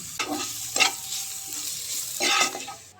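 Grated ginger and garlic sizzle steadily in a hot pan for a tadka, with a few louder scraping stirs cutting through the continuous frying hiss; close and fairly loud, no voices.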